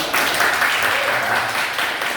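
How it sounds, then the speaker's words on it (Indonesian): Applause from a class of students fills the room, a steady dense patter of many hands clapping at even loudness from start to finish. "Ya bagus, tepuk tangan."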